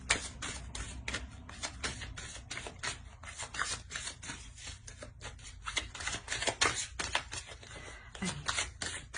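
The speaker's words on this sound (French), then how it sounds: "Je vais rajouter une carte." A deck of tarot cards is shuffled and drawn, a soft, steady run of riffling and flicking slaps, fairly close and quiet, with no clear speech over it.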